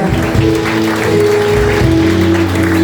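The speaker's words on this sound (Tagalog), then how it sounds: "pumalakpak sa Kanya ng napakalakas" A church congregation claps loudly in praise during a worship service, a dense steady wash of hands under sustained organ or keyboard tones throughout.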